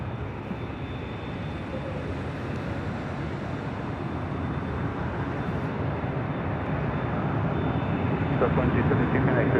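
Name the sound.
Delta Airlines Boeing 737-900ER jet arriving at LAX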